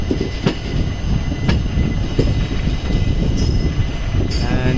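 Electric-locomotive-hauled intercity train rolling into platform 3 at a station, with a continuous low rumble of wheels, faint squeals and a few sharp metallic clanks toward the end, no talk.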